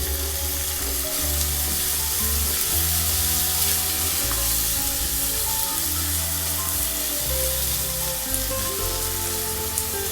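Finely chopped tomatoes fry in a pan with ginger garlic paste, giving a steady, dense sizzle and crackle that continues evenly throughout without any talking.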